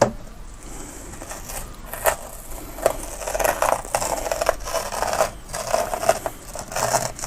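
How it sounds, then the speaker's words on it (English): Masking tape peeled away in scratchy strips from the edges of a grayscale painting, close and fairly quiet, with short rasping tears and brief scrapes coming in irregular bursts. "I'm going to take the tape off and you'll see how it all looks."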